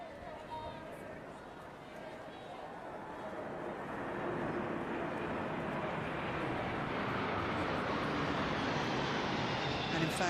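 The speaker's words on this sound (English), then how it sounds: "This, the C-17, flown by 99 Squadron, and it's a long-range heavy lift aircraft used for humanitarian missions very often these days." A C-17 long-range heavy lift aircraft flies over during the Trooping the Colour ceremony, a steady, broad jet roar building after a few seconds and holding loud and sustained to the end, with faint crowd murmur beneath.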